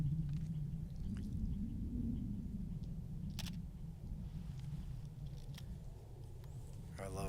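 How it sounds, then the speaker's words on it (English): A single crisp shutter click from an old film camera sounds midway through, shot outdoors on a snowy hiking trail, over steady wind rumble while someone talks. "I love that sound of the shutter on this old camera."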